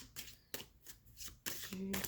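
Playing cards are shuffled in quick riffling bursts, crisp and close, with a voice speaking over the rustle.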